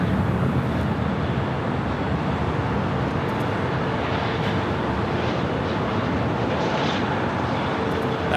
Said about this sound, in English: That was the flight heading to JFK.